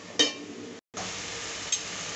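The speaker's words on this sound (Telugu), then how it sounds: "ఆకు వేసుకుంటే బిర్యానీ మంచిగా ఉంటుంది, టేస్ట్, స్మెల్, కలరు. కొద్దిగా వేగనిద్దాం." Curry leaves sizzle in hot oil for mushroom biryani, a steady close frying hiss with a couple of sharp crackles and a momentary silent gap, no talking.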